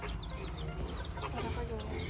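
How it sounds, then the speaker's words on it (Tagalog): Pet chicks and chickens cluck and chirp in short repeated calls over a steady low background hum, fairly close and moderately loud throughout. "alaga naman yung piso"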